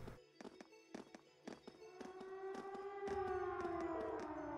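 A fort's alarm siren wails in the Trails of Cold Steel video game, starting with rapid pulsing tones and then rising into a sustained, loud howl that holds to the end.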